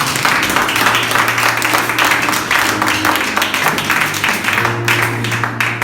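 Church congregation clapping and cheering loudly and continuously, a dense wash of applause with steady held tones from music playing underneath.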